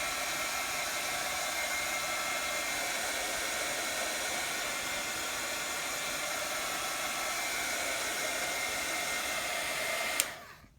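A hair dryer blows steadily at close range to dry paint on the pages of a Bible journaling kit, a continuous loud whooshing hiss that runs without a break for about ten seconds before cutting off abruptly.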